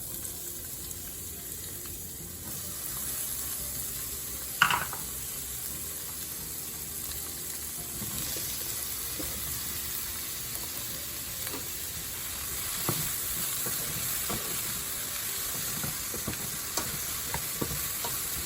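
Vegetables are tipped into hot oil in a home kitchen pan and fry with a steady, close sizzle, broken by the clatter and clinks of stirring. No one speaks.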